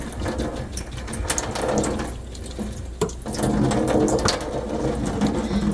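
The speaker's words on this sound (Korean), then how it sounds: "이렇게 살살 생수로 흐르는 물로 골고루 헹궈 주시고요" Running tap water rinses anchovies and nuts in a strainer over a sink, a steady close splash and gurgle with brief louder spurts, alone without talk.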